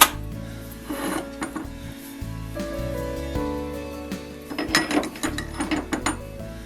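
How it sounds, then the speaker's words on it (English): A hand ratchet and socket tighten the bottom bolt clamping a steady rest to the bed of a South Bend 9 inch metal lathe, giving close, repeated clicking strokes in uneven bursts with no talking. "I tighten up this bottom bolt using a socket and a ratchet, reaching up through the bottom"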